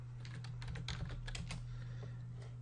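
Steady typing on a computer keyboard, a close run of soft key clicks over a low hum, ending with a sharp louder tap.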